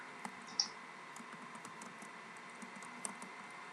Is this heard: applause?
no